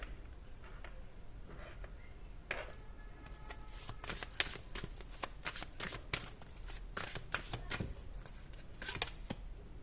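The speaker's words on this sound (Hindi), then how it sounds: "तो अगर आपको कार्ड शफलिंग पसंद नहीं आती है तो आप इसको स्किप कर सकते हो" Tarot cards being shuffled by hand, a steady run of crisp, papery flicks and soft riffles, close and fairly quiet over a faint room hiss, with no talking.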